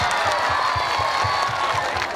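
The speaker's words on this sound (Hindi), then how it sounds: "आप सब को ताली बजा के इस विधायक जी पर धन्यवाद देना चाहिए" Crowd at a Maa Kali fair event in Bhittha claps and cheers for the local MLA, a dense steady wash of applause and whoops over a rhythmic low drum-like thump from the stage sound system.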